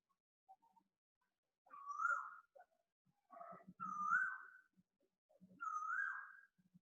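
An Asian koel calls three times in a row, each a loud rising whistled phrase with short pauses between, heard alone against a quiet background.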